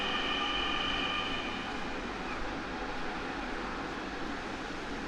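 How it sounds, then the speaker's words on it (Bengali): A Dhaka metro rail train pulls into the station with a loud, steady rumble and a high electric whine, the sound holding level and continuous throughout, no voices. "এখানে ট্রেন চলে এসেছে।"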